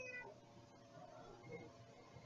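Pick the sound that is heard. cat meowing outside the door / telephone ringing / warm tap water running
cat meowing outside the door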